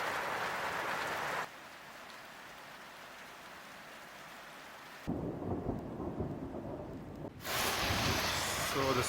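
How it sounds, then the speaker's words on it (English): Rain falls in the Himalayas of Upper Mustang, Nepal, during a thunderstorm, a steady hiss that drops away and returns in abrupt sections, with a spoken voice heard over part of it. "So, it's raining now."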